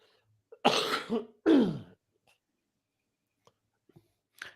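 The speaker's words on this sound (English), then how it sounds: "I can hear your cough down here" Two short, harsh coughs close by, one right after the other, followed by near silence with a few faint clicks.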